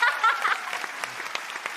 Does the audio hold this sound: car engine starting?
no